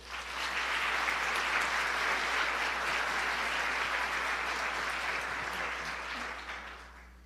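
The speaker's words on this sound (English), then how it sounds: "So let's give them a round of applause too." A crowd applauds at a Halloween royal ambassador coronation ceremony in Anoka, Minnesota, the clapping swelling quickly and holding steady before it tapers off near the end.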